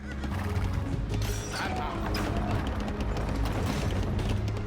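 A horse whinnies amid clanking mechanical battle noise in Age of Empires II, a brief neigh partly buried in a busy, steady game soundscape.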